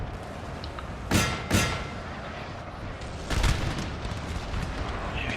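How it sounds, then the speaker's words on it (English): Artillery fire from the video game Napoleon Total War: two loud booming blasts close together early on, then a heavier rumbling volley a couple of seconds later over a steady battlefield din. "The artillery to back them up."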